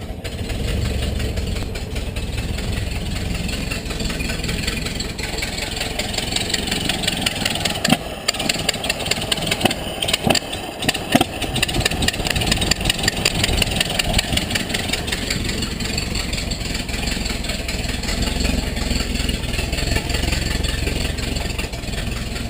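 A 1930 Ford Model A engine, started after decades in storage, runs steadily with a bit more throttle, a loud continuous rumbling drone with irregular knocks and clatters partway through, close up and without talking.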